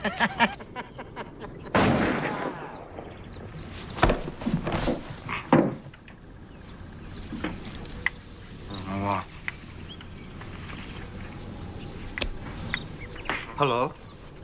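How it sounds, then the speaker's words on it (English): Several sharp gunshot cracks ring out irregularly amid clattering noise and a rumbling background, some louder and closer than others. "Were those gunshots?"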